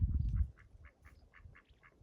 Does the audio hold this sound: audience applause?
no